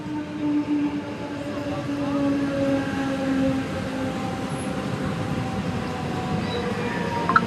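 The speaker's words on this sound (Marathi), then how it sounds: "ही ठाण्याला जाणारी आहे आता ट्रेन जाऊस तर आपण काहीच बोलू शकत नाही कारण आपल्यापेक्षा जास्त आवाज ट्रेनचा येतो" A local train bound for Thane rumbles past on the line near Thane, Mumbai, loud and close, with a steady roar and faint high-pitched rail tones holding throughout.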